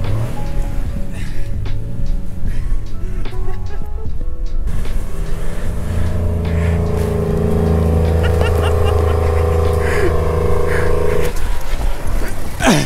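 A vehicle stuck in snow backs up with its wheels spinning: a loud engine revs and whines at a sustained high pitch over rough, churning noise, close by.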